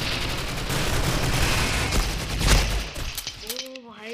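Rapid gunfire crackles through a round of Critical Ops, a dense burst of shots that peaks and then breaks off into scattered pops as a voice starts talking at the end.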